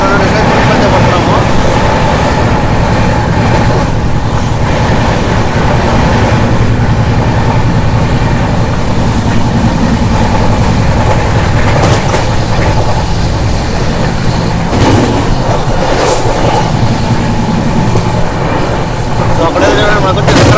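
Tatanagar to Ernakulam Express train running near Singarayakonda railway station, a steady loud rumble and rattle of the moving carriages with wind buffeting throughout, a voice talking over it at times.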